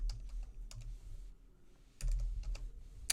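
Fingers type on a computer keyboard in irregular bursts of close clicks, quick clusters separated by short pauses, over a quiet low room hum with no speech.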